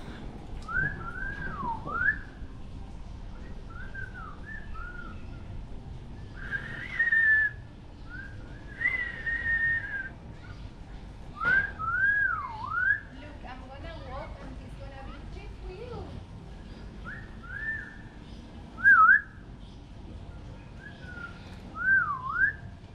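A bird in a floating village gives repeated swooping whistled phrases in an irregular series at moderate distance, while people talk intermittently around it.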